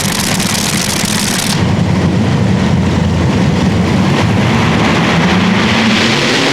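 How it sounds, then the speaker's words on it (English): A pulling tractor powered by two Rolls-Royce Griffin aircraft engines from a World War II Shackleton bomber runs at a tractor pulling event, a loud, steady, broad engine roar with no gaps. "His 2 Griffin engines purring away nicely."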